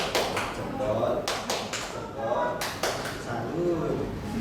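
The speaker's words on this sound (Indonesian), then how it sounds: "Tepuknya adalah seperti ini, tepuk jempol namanya." A classroom teacher leads rhythmic "tepuk jempol" hand clapping, a chant-style clap pattern, with sharp claps sounding in a steady beat mixed with voices speaking over it throughout.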